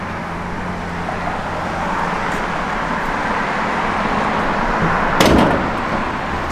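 A 1967 Chevrolet Camaro RS idles with a steady low engine rumble, close and constant, interrupted once by a brief sharp thump near the end.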